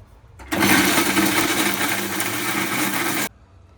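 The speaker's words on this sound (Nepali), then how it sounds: "अनि यो करेलाको भित्रको गुदीलाई पनि यही मिक्सरमा पिस्छु सँगै।" A kitchen mixer grinder whirs loudly for about three seconds, grinding chilies, onion and bitter gourd pulp with seeds, starting and stopping abruptly, with no talking.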